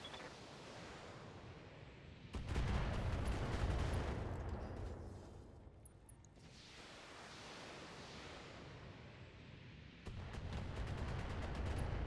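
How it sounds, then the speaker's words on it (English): Mech weapons fire on multiple enemies in BattleTech, surging volleys of booming shots and rumbling impacts in two loud bursts with a quieter lull between. "Firing on multiple enemies."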